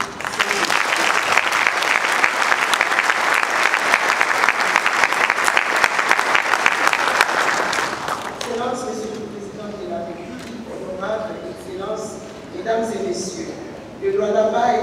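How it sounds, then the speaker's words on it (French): Audience applause and cheering at the opening of the 12th governors' conference in Kolwezi, DR Congo: dense, loud clapping for about eight seconds that then fades beneath someone speaking. "Je vous invite à acclamer."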